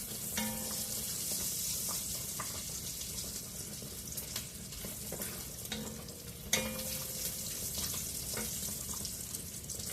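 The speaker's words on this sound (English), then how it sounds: "My bacon is almost done." Bacon sizzles steadily in a pan, a soft continuous hiss with scattered pops and crackles, one sharper snap partway through, heard close and fairly quiet.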